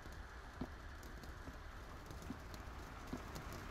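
Rain falling outside in the horror game Devotion: a faint, steady wash of patter with soft, evenly spaced taps and drips.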